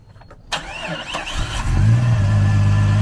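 A homemade vehicle fitted with DIY snow tracks starts up and pulls away, its engine rising from a sputter into a steady, loud drone with a low rumbling hum up close.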